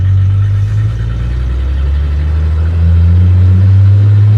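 A 1966 International pickup truck's old engine idles with a loud, steady low chugging rumble, close and continuous, with a slight rise in level toward the end.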